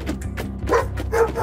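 A dog barks and yips in a few short bursts, fairly close and loud over a steady low background hum.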